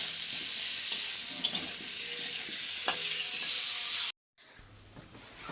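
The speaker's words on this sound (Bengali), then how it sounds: "তো চলো এখন আলুটা ভেজে নিই" Potatoes fry in hot, pre-salted oil with a loud, continuous sizzling hiss close by for about four seconds, then the sound cuts off and a quieter sizzle follows.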